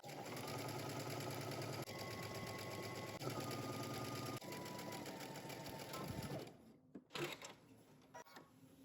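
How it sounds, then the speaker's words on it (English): A sewing machine stitching a 5/8-inch seam on a McCall 8514 jumpsuit, running in steady rapid bursts with short pauses between them, then stopping near the end, followed by faint handling clatter. "Now we're going to head to the sewing machine and we're going to stitch using 5/8 of an inch seam allowance."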